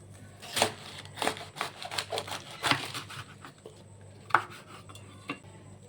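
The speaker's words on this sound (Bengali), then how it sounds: "বাঁধাকপিটিকেও সুন্দর করে কেটে নেব" Cabbage cut with a knife on a board for an eggless egg roll, a series of sharp, close chopping taps at an uneven pace with brief pauses, fairly quiet overall.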